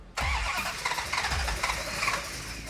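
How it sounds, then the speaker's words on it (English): A restored 1969 Dodge Charger's engine cranks over without catching, the starter churning loudly and close in a steady rhythmic whir for over two seconds. "When you hear an engine crank so easily and it doesn't quite want to fire"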